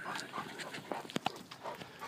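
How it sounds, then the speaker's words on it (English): A dog whimpering and panting near a backyard pool after playing fetch and swimming, soft irregular whines with a few sharper yelps, close by with faint background noise. "That's my dog, Dexter, playing hide and seek with the ball and playing fetch"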